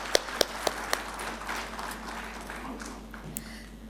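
Audience applause at the NISAA Business Forum 2023 as a guest is invited onto the stage, opening with a few sharp, evenly spaced claps close by, then settling into softer, scattered clapping from the crowd that tapers off.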